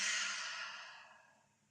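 A single long, breathy exhale during a yoga class, loud at first and slowly fading away over a couple of seconds.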